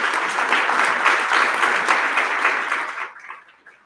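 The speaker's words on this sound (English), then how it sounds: "you should applaud that" An audience at an Ohio State University event breaks into dense, steady applause for several seconds, then it quickly tapers off and fades out.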